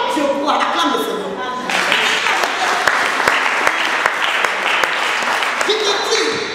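A church congregation breaks into sustained applause in praise of the Lord, dense rhythmic clapping that swells after a quieter start and carries on steadily with a few sharper claps standing out, mixed with some voices.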